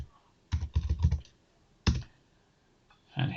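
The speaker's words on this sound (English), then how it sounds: "So if we type in a keyword, for example, modernisation," Short bursts of typing on a computer keyboard, a quick cluster of close key clicks, a pause, a single tap, then a few more clicks, with no speech.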